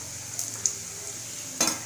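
Dal batti dumplings fry in hot oil with a steady, moderate sizzle, broken by a couple of brief metallic clinks from a utensil against the pan.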